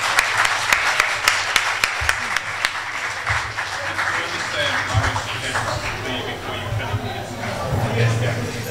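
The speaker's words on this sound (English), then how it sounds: "If we could all please give him a big round of applause for coming out." Audience applause at a university talk on marketing communications in Bangladesh, sustained clapping from a large room with sharp individual claps early, continuing steadily with a low hum beneath.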